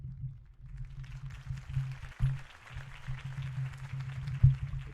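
Crowd applause at a Harvey Dent campaign rally in Batman: The Telltale Series, a faint, steady wash of clapping over a low hum for several seconds.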